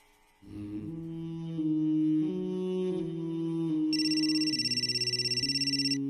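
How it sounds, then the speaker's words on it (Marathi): A phone ringtone plays as a sustained melodic electronic tune, starting softly then growing louder, with a brighter pulsing high layer joining near the end. "आता कोणाचा फोन?"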